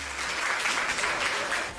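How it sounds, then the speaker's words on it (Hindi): Audience applause at a Hindi hasya kavi sammelan, a comedy poetry gathering, with a dense, steady burst of clapping from a crowd, moderately distant and continuous for the whole short stretch. "आप इनके लिए जोरदार ताली बजाएं"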